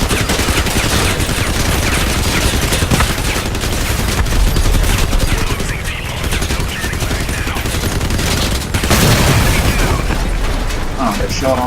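Rapid-fire vehicle weapons blast in a Crossout battle, a dense, loud, continuous barrage of gunfire and mechanical clatter, with voices talking over it.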